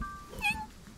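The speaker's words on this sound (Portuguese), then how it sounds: "Olha, é um gatinho" A single short kitten meow rises near the middle of a second, close and clear over a dim hum, from an animated kitten in a cartoon series trailer.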